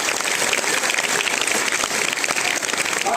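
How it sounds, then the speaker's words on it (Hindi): Children clapping to welcome parents at a school parents' meeting, a lively, continuous burst of many hands applauding together, close and fairly loud. "हमारे सारे बच्चे तालियों के जरिए एक मरतबा का स्वागत करें।"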